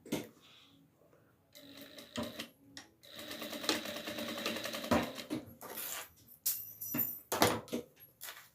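A sewing machine stitches fabric for a rag doll's hat, running in bursts of rapid mechanical whirring with short pauses and clicks between runs, close and fairly loud.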